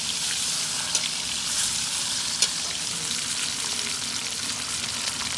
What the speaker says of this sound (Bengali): বলতে বলতে আমাদের কোয়েলের রোস্টগুলো ভাজা শেষ